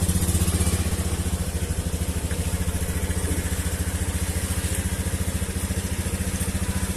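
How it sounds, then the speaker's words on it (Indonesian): Honda Scoopy FI scooter engine running at a steady idle right after starting, a close, even, rapid putter with a fine mechanical clatter that stays unchanged throughout, with no talking. "Lanjut kita nyalakan motor atau mesinnya."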